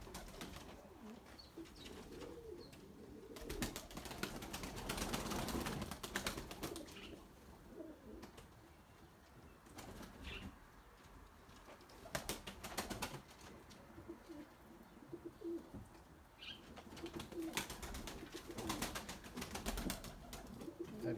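Turtle doves coo in soft repeated phrases outdoors among pigeon lofts, with occasional bursts of wing flapping and faint background noise throughout.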